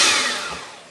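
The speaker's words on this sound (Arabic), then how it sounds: "ونطربوهم بالباتور." Electric hand mixer whirring through cake batter, a loud close buzzing whine that fades steadily over a second.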